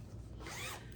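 A zipper runs along a handmade Tula Pink fabric bag that has a small letter charm hanging from its pull. The zip is a single quick, close rasp of about a second, heard alone.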